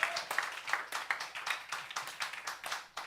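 A church congregation claps along during a Sunday worship sermon, delivering a brisk, rhythmic series of loud hand claps that are close and steady across the whole stretch.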